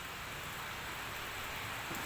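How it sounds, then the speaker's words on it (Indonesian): Steady rain falling on a village homestead in Kuningan, a dense even hiss on surfaces lasting throughout, close and continuous with no other sounds. "Di sini juga masih hujan gitu"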